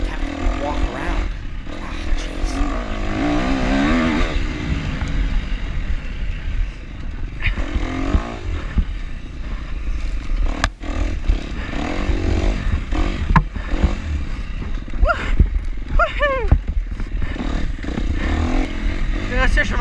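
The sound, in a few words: enduro dirt bike engine riding in snow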